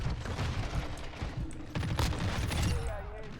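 Rapid bursts from a Lachmann Sub submachine gun in a shooter game, firing steadily through the clip with sharp repeated cracks layered over game noise, near and fairly loud.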